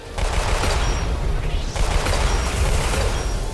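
Rapid gunfire from a weapon in the Roblox shooter Weird Gun Game, a dense continuous burst of loud close shots running almost the whole time with a brief gap midway.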